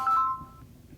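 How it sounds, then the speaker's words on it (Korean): A phone rings with an incoming call in the middle of a Korean fortune-telling lecture: a short electronic ringtone of a few bright, steady beeps that lasts about half a second and then fades into quiet room noise. "아이고 전화 왔네."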